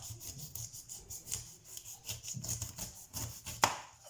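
Knife cutting down through a whole pineapple, giving a run of close, soft scraping and rasping strokes with a sharper crunch near the end, with no talk.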